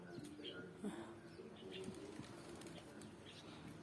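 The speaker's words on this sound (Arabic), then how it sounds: "هانتوما خوتي الحمام غادي يشرب" Pigeons at a water dish make faint, soft cooing and small rustling and wing sounds against quiet background noise, heard close but at low volume.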